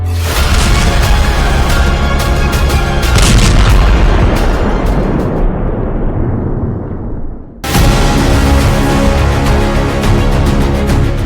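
Explosions from Israeli air strikes on Beirut, loud booming blasts rolling into long rumbling decay, one dying away briefly before another heavy blast erupts and sustains, with no voices.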